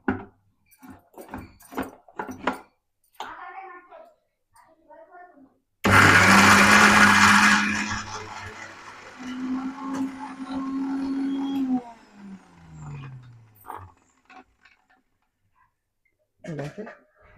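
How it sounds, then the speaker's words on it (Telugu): A mixer grinder loudly whirs for about six seconds as it grinds coconut, green chillies and garlic, its pitch steadying as the blend smooths, with speech before and after. "మిక్సీ పట్టాలి."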